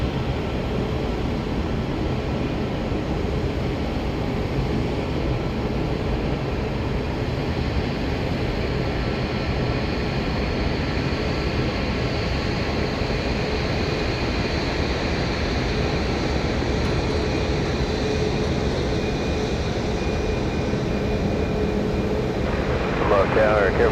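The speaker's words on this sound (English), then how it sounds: "Max 8 on its way to Houston Hobby Airport." A Boeing 737 Max 8 airliner departing Dallas Love Field for Houston Hobby Airport: a steady, broad jet-engine roar holding at an even level throughout, with a faint rising whine near the end.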